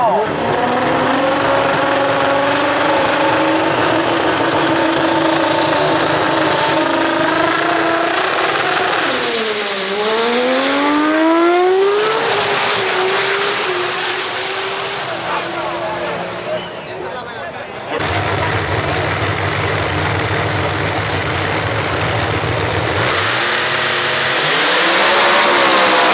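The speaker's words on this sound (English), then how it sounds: "Let's go see the super giant turbo cars." Roaring turbocharged drag race cars scream and rev up through gears, loud and sustained, with a crowd murmur and an announcer's voice beneath.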